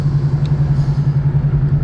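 A car's engine idles or rolls slowly near a tunnel and speed bump, a steady low rumbling hum close by with a pulsing, even throb throughout.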